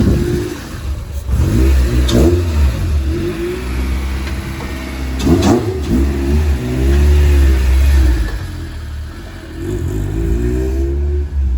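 A Toyota MR2 Spyder with a swapped-in Honda K24 engine revs loud and close, its pitch climbing and falling through repeated throttle blips and sustained pulls, with no talking over it.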